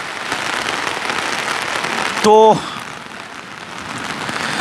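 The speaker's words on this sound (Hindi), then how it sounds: "अब बारिश तेज हो गई है" Heavy rain pours steadily near the Delhi-UP border in a dense, loud hiss, with a brief beep sounding partway through and a short word spoken.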